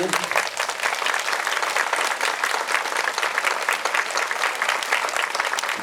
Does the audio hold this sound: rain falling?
no